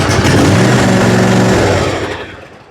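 An Ariens zero-turn lawn mower engine running right after a choked start, a loud, steady, close engine drone that fades toward the end, with no voices.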